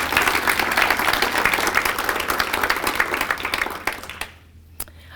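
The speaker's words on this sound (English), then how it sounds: "Let's give them a round of applause." An audience at a volunteer breakfast applauds the commissioners with loud, sustained clapping from many hands that fills the room. It tapers off after about four seconds, leaving a few last claps.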